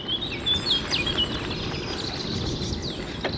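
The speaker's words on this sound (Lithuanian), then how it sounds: "Klausausi paukščių čiulbėjimo." Birdsong carries along a road by the Rhine on a bicycle trip between Germany and France. Repeated bright chirps and trills, moderately close, sound over a constant hiss of wind and road noise.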